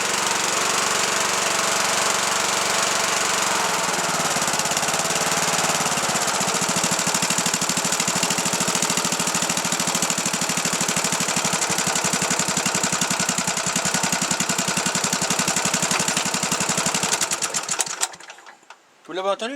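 A single-cylinder Briggs & Stratton engine runs with a fast, rattling mechanical chatter of rapid ticks and clicks from the decompressor, steady and close, then cuts off near the end.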